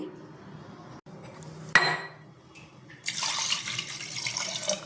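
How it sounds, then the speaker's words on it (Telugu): Water splashes into a pot of mutton curry in a home kitchen, a sharp clink of utensils followed by a steady rushing pour that runs on loudly to the end. "ఇప్పుడు వచ్చేసి ఇందులో వాటర్ పోయాలి"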